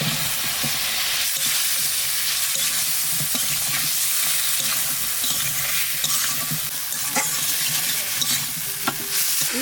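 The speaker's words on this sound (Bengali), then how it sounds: "মশলার সাথে চালটা একটু কষাই নিলাম" Sliced elephant apple stir-fried with turmeric, salt and spice paste for a sour crab curry, a dense continuous sizzle with frequent spatula scrapes and clicks against the pan.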